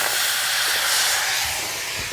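Water poured into a hot frying pan for oil-free aloo kulcha erupts in a loud, dense, steady steam hiss that fills the whole moment and fades slightly toward the end. No voices are heard.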